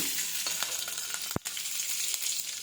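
Mustard seeds, cumin and chopped green chillies sizzle steadily in hot oil for chapati upma, a close, continuous hiss with small pops and one sharp clink partway through.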